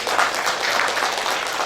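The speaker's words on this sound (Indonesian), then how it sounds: "Tepuk tangan buat kalian." A brief burst of steady, dense applause for graduating elementary students at a school graduation ceremony, many hands clapping together at an even level with no speech over it.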